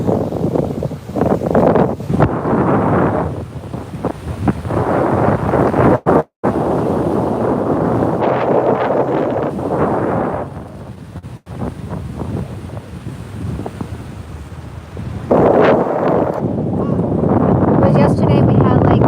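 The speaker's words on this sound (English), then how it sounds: "Waves are so soothing." Ocean waves on the West Coast surge and wash in broad rushing swells, mixed with heavy wind buffeting the microphone, rising and falling through the stretch.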